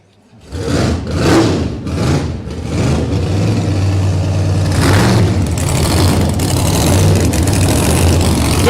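A supercharged drag racing car engine fires up at a pit area and settles into a loud, steady, rumbling idle with a deep low-end throb, close by and with no talk over it.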